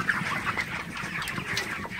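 A flock of broiler chickens on a farm clucks and murmurs continuously, many birds close together in overlapping soft calls and squawks, with no talking.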